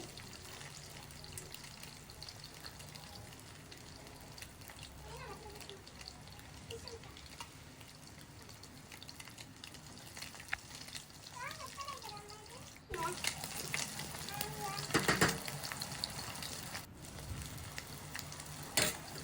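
Fish pieces deep-fry in oil with a soft, steady sizzle and occasional spoon clatter as they are turned. The frying grows louder and busier toward the end, while a voice talks quietly over it.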